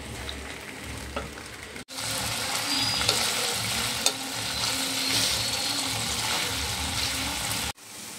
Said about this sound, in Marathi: तर तेल आता गरम झालं आहे आणि याच्यामध्ये मी हे पनीर जे आहे ते फ्राय करून घेते